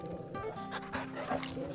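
Torgal, a dog in the video game Final Fantasy XVI, giving a short bark with yips and whimpers over game music, lasting under two seconds.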